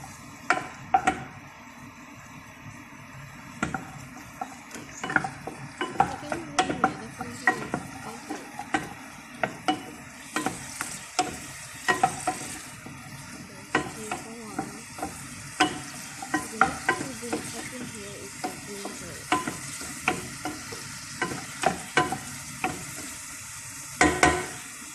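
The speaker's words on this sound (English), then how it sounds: "Then we drop in these sliced onions. Then we just stir them there." Sliced onions frying in a pan as they are stirred, with a steady sizzle broken by frequent sharp clicks and scrapes of a spoon against the metal, close and continuous throughout.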